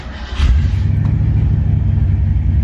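A 1968 Ford Mustang Fastback fires up, a brief crank then a loud, close engine catch settling into a deep, steady rumbling idle with no talk.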